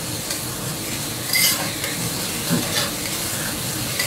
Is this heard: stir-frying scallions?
yes